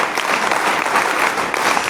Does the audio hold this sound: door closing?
no